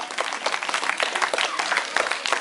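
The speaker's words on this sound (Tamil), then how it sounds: "உங்கள் அனைவரின் சார்பாக தம்பி செல்வராயர் அவர்களை அன்போடு பாராட்டி நம் கைத்தட்டல் வழியாக அவர்களை உற்சாகப்படுத்துவோம்" A church audience applauds, a continuous dense patter of many hands clapping close by, steady throughout without speech.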